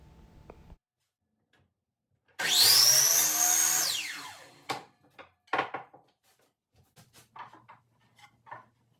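A power saw whines up loudly and cuts through wood for a handmade cabinet, a single sustained cut of about two seconds that winds down, followed by scattered knocks and thuds of boards being handled.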